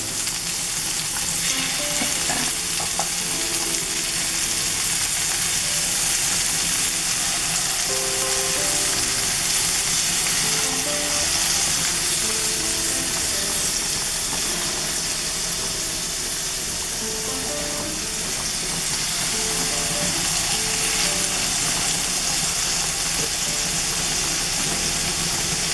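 Scallops fry in a hot pan with a steady, loud, close sizzle that holds unbroken throughout, no voices over it.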